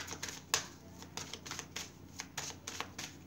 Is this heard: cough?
no